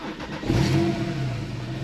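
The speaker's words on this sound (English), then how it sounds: "let me just start it up because this car sounds" A Porsche 911 Carrera S 997.2 PDK coupe with centre silencer delete cranks and fires about a quarter of the way in, then holds a loud, steady, throaty idle close by.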